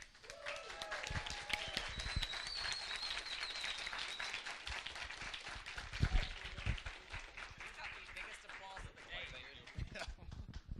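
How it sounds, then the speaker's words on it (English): An audience at a convention's closing ceremony applauds, steady dense clapping that fills the whole stretch, with a few voices and shouts mixed in. "they're applauding"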